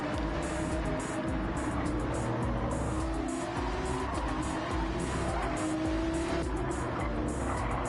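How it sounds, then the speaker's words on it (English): A GT3 race car in Gran Turismo 7, racing at night at the Red Bull Ring, holds a steady, loud engine drone throughout, with tire squeal and other cars mixed in. "10 laps of GT3 racing at Red Bull Ring"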